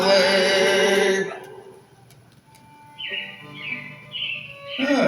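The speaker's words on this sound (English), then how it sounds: "It looks like the Robins are getting ready to celebrate Valentine's Day today" Robins chirp in a series of bright, rising tweets inside an animated theater show, coming after a loud stretch of music that fades out, with a faint hum under the calls.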